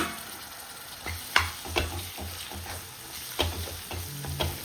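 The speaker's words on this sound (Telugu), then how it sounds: "ఈ టమాటా అంతా కూడా బాగా మగ్గిపోవాలి ఆయిల్లో" Chopped tomato fries in oil for mutton kheema, a steady close sizzle broken by several clattering stirs of a spoon against the pan, with no voices.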